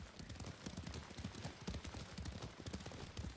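Horse hooves clip-clopping at a steady riding pace in Ghost of Tsushima, a continuous rhythmic patter of hoofbeats at moderate distance, fairly quiet and heard alone.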